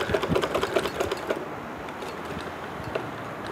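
A sewing machine stitching fabric around a curved edge, a fast, busy mechanical whir with rapid ticking that is strongest in the first second and a half, then fades to a softer, steady hum.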